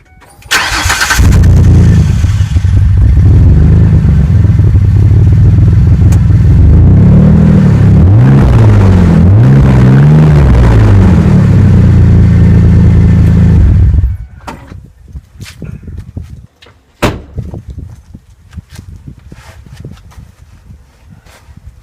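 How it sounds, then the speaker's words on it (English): A car's engine cold-starts with a loud burst through its exhaust, idles roughly, then revs a few times in quick rising and falling pulses before shutting off, leaving quiet clicks and rustles. "So that was a cold start. Revved a little bit."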